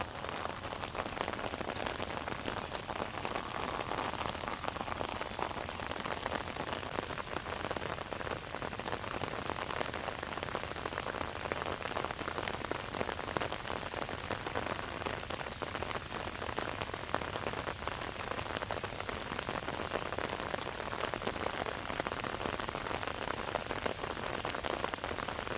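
Steady rain pours down over a village field in the early morning, a dense, even patter on surfaces that runs without pause at a constant, moderate level, with no voices.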